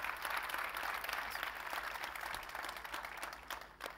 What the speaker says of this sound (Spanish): primera ovación para ellos,